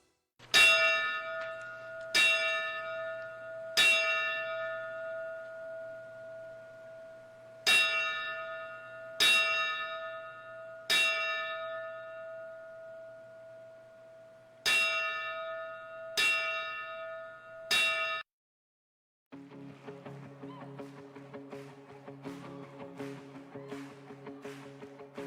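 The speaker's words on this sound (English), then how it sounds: "I don't know if the bell ringing went over the air or not" A church bell tolls about ten times in a slow, uneven rhythm, each strike ringing out and decaying over a steady low hum, then the bell stops and a different busy, tonal sound takes over near the end.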